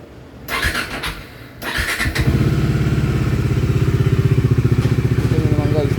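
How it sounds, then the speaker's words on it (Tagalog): Bajaj Dominar 400cc motorcycle engine starting after some brief handling noise, then idling with a steady, close, loud rhythmic thrum that holds to the end. "So sound check tayo ng Dominar 400cc."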